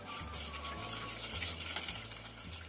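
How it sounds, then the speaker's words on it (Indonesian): Spoon stirring a mixture of coconut milk, milk, sugar, salt and vanilla in a pot, a steady close scraping and swishing with faint sizzle-like hiss throughout. "Kita aduk sampai rata."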